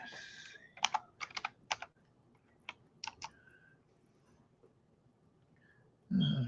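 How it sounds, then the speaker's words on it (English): A name typed on a computer keyboard in short irregular bursts of crisp key clicks with pauses between, close and clear in a quiet room, ending with a low thump. "let me go ahead and find her name. I gotta type it in again."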